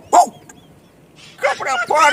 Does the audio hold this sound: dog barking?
yes